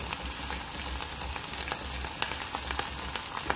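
Tomato pickle frying in a pan, giving a steady, moderately loud sizzle with small scattered pops and light stirring throughout, with no voices.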